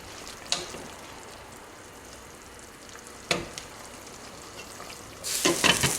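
Beans with culantro and cilantro are stirred in a pot, a faint low simmering hiss broken by a couple of light spoon knocks, then a louder rushing burst near the end.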